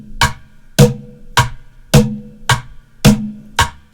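A regular rock beat tapped on bucket drums: seven evenly spaced, close hits alternating a deeper bass-like thump with a sharper snare-style crack, each decaying quickly, with no talking.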